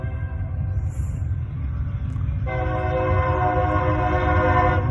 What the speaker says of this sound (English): That was a train behind me.